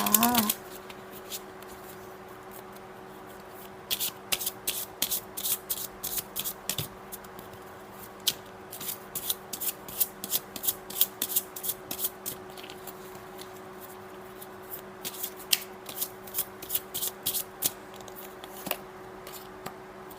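Angel oracle cards are shuffled close up in rapid, papery riffling bursts that repeat through the clip over a faint steady hum.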